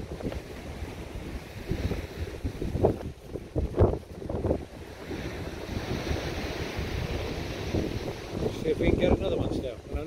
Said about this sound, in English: The wind's about 40 mile an hour due west.